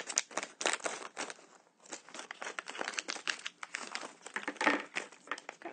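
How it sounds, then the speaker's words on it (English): Scissors snip and crinkle a small plastic baggie up close, a busy run of crisp crackles and rustles with a brief pause partway through and no talking. "I'm going to use my scissors to get those out of there."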